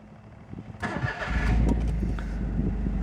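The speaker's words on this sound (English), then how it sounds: "I'm just going to turn the car on." A 2012 Smart ForTwo Passion 1.0 cabriolet being started: a short starter crank, then the small engine catches first time and settles into a steady, close idle.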